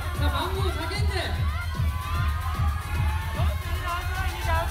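Spectators at a Best Body Japan bodybuilding contest in Tokyo shout out over one another during posing, a loud, busy babble of overlapping calls above a steady thumping music beat.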